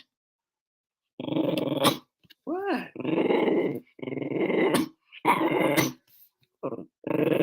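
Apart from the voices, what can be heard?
dog growling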